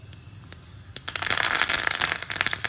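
Curry leaves dropped into hot oil for a tempering, already holding cumin seeds, bursting into a dense run of sharp crackles and pops that swell after the first second and stay loud and close, no voices.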